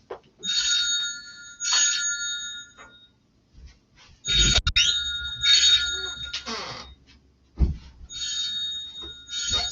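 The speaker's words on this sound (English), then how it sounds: "Sorry, the phone was ringing." A telephone rings in three bursts of bright electronic trilling separated by pauses, fairly close, with soft thumps between the rings.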